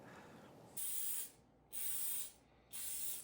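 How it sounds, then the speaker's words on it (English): Three short, sharp bursts from an avocado oil spray onto baguettes, each lasting about half a second with brief pauses between, close and crisp. "Today, I'm simply going to spray them with pure avocado spray."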